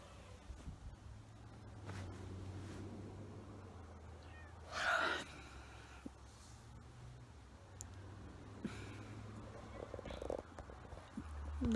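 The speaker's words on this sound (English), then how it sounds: "The cats want to be fed." Cats meowing to be fed indoors, a couple of faint, drawn-out meows over a low, quiet room hum, with no one talking.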